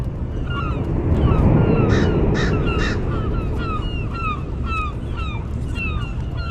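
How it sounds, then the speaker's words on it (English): Several crows caw repeatedly while mobbing a bald eagle in a city setting at blue hour, their harsh calls coming in quick bursts over a loud, steady rumble of wind or traffic. "There's a bunch of birds bugging him, like, or her, like flying on top of him. And one crow,"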